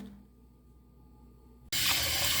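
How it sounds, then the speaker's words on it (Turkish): Cold tap water runs over leaves being rinsed for cooking. After a quiet start it switches on suddenly as a loud, steady, close-up splashing rush that lasts to the end. "Şimdi soğuk suyla yıkıyorum."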